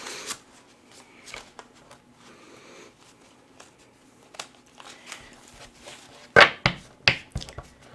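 Tarot cards being shuffled by hand, a soft papery riffling and crinkling that runs throughout, ending in several louder, sharper card snaps near the close, with no talking.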